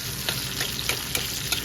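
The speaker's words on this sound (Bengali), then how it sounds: "এবার আমি এখানে ছোলা ভুনে নিচ্ছি। ফার্স্টে পেঁয়াজ লাল করছি" Onions browning in a hot pan as the base for spiced chickpeas, a steady close sizzle with a few soft scrapes of stirring and no voices.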